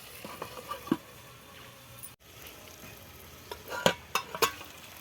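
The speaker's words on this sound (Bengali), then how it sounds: "একটু নারকেলের দুধ দেয়, এতে কিছুক্ষণ আর নাড়াচাড়া করে" Masala being stirred with coconut milk in a pan for an egg curry, giving soft scraping and patter with a few sharper spoon-on-pan clinks near the end, close and fairly quiet.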